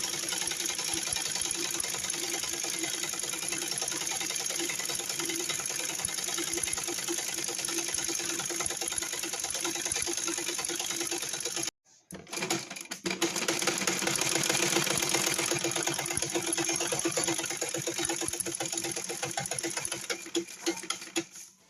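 An electric sewing machine stitches trousers in a fast, even whirring run, stops briefly about halfway, then resumes at the same steady pace and tapers off near the end.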